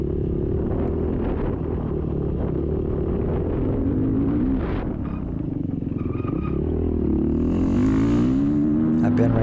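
A 2020 Beta 430RR four-stroke dirt bike at a sprint enduro on a farm course drones with a steady low engine rumble, rising and falling as the throttle changes, close and continuous, with brief mechanical clatter.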